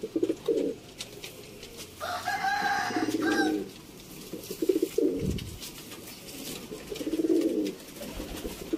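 Rampuri pigeons in a breeder's coop in Sialkot give soft, low repeated coos in several bursts, close by, with rustling and some fowl calls mixed in.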